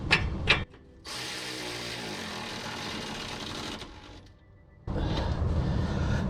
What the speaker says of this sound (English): I'm gonna get a wrench to tighten that